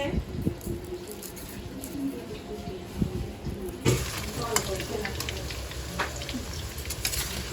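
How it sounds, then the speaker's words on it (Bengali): Potatoes frying in a pan for a meat curry, with a continuous close sizzle, scraping stirring sounds and occasional spatters throughout. "এটা কিন্তু মাংসের আলু ভাজা হচ্ছে।"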